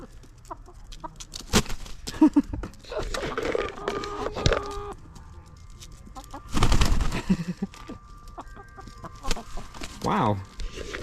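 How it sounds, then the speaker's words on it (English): Backyard chickens cluck and squawk in short bursts as they jump for treats, with a voice, wooden knocks and rustling scattered throughout. "Are we gonna have a couple of jumping chickens?"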